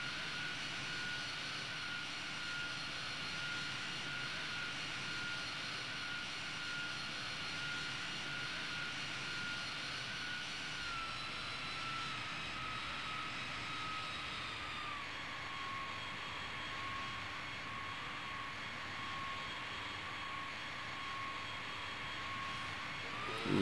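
Engines of a B-52D bomber in the Strike Fighters 2: Vietnam flight game, a steady jet drone with a high whine that drops slightly in pitch partway through, continuous and even with no speech.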